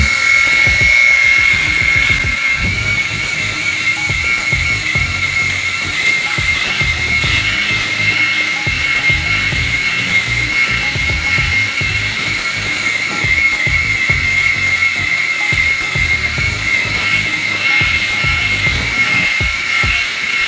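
Remington Balder Pro electric head shaver running steadily against a scalp, a continuous close buzzing whine with a rough scraping texture throughout, heard alone without talk.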